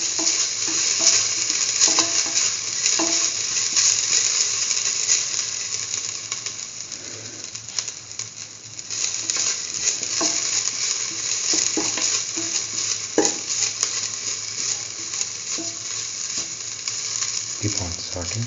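Grated coconut and cabbage are sautéed in a pan, a continuous sizzle under repeated scraping and clicking strokes of a spatula, fairly close and steady, with a brief quieter lull midway.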